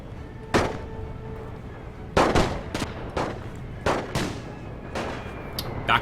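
Rifle gunfire in a WWI strategy game set in the Great War: several sharp, loud shots at irregular intervals, some single and some in quick pairs, over low battlefield background noise.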